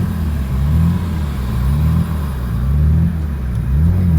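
A VR4 engine idling high with clutch in, revs rising and falling in a slow, uneven surge as it hunts around 1,500 to 2,000 RPM; a steady, close, loud low rumble with no talk.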